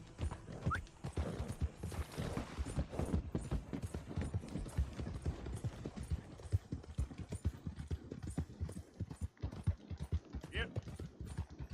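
Rapid clip-clop of horse hooves galloping in Red Dead Redemption 2, a steady fast rhythm with occasional whinnies and someone talking over it.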